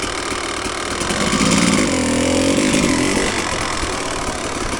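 A motorcycle engine runs steadily after a transmission fluid change, a continuous mid-pitched idle with a slight rise in revs near the middle, fairly close and loud with no talking.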